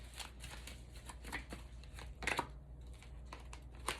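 Tarot cards shuffled by hand at close range, a soft papery riffle with crisp slaps and flutters, the card noise rising in short bursts over a quiet hum with no talking.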